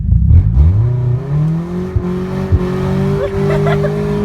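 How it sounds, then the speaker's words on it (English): A Nissan 240SX engine revs up sharply and holds a loud, rising drone as the car launches into a burnout, with a steady high whine over the rumble and a few abrupt thumps, close and continuous. "Now rev it up and do a burnout."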